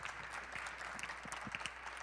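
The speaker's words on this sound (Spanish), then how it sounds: "Yo creo que los panelistas se merecen un fortísimo aplauso" Audience applauding panelists at an energy governance conference, a steady wash of many hands clapping at a moderate, somewhat distant level.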